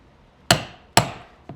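A 10-tine stitching chisel is struck into leather with a hammer, giving two sharp, close taps about half a second apart and a lighter third tap, with quiet between strikes.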